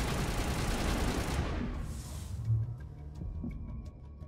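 In Mass Effect, turret fire pounds out as a loud, rapid, throbbing barrage up close. It thins out after a couple of seconds, leaving scattered lighter shots and game noise.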